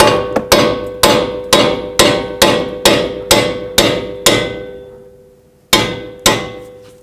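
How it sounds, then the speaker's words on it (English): Sharp metallic hammer blows drive bolts out of a front strut on a 2006-2011 Chevrolet HHR in a steady rhythm, about nine in a row, then a pause and two more ringing clangs, loud and close. "Now use a hammer and just drive the bolts out."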